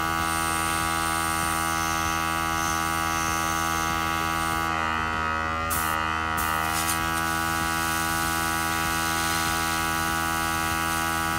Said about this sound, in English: I do apologise about the compressor.